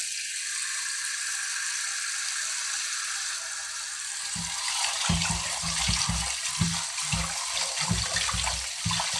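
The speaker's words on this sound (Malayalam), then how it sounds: "അപ്പോൾ അത് നമുക്ക് കഴുകുന്നത് എങ്ങനെയാണെന്ന് നോക്കാം." Running tap water pours steadily into a sink as sardines are washed with salt, a constant rushing hiss joined midway by rhythmic sloshing and rubbing splashes from the fish being scrubbed by hand.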